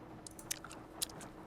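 Game chewing effects from Nancy Drew: Legend of the Crystal Skull play in a quiet setting. Wet, crunchy bites come in an irregular rhythm, with two sharp, louder crunches among softer squishy chews, and no one speaks.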